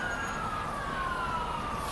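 An ambulance siren passes on the street during a walk, a steady wailing tone that slowly falls in pitch as it goes by, moderately distant over a constant traffic rumble.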